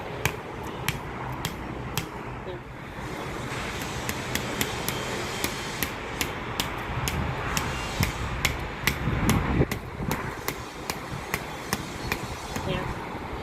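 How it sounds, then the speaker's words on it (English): Metal spikes are hammered into saturated, rain-soaked ground: a long run of sharp, evenly spaced strikes at a steady rhythm, moderately close over a soft background hum. "little dude's gonna hammer down these while the ground is saturated"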